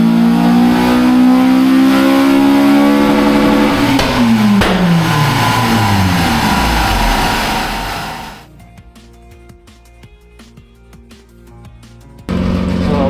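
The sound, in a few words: Honda Civic FN2 Type R engine revving on dyno run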